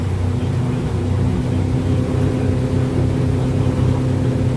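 A Stabicraft 27 boat motors at speed on autopilot, its engine giving a steady, loud low drone with constant hull and wind rush throughout and no talking.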